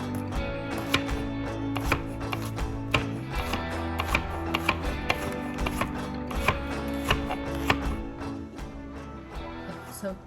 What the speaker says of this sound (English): Second thing is cut up the meat.